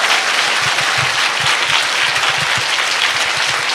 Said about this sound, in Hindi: ताली छोटी है अगर प्रभु की महिमा के लिए